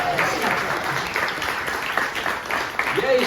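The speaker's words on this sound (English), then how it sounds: "That's the first time I've ever heard a station logo applauded." Audience applause breaks out after a radio station ID logo, a dense, steady patter of many hands clapping at moderate volume for a few seconds.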